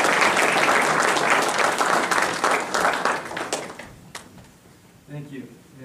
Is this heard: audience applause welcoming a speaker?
yes